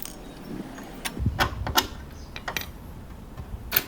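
Wrench clicks and metallic clinks while loosening tight nuts on the rear shock of a Lion F9 electric bicycle, a cluster of sharp ticks and knocks around the middle of the clip, fairly close and moderately quiet.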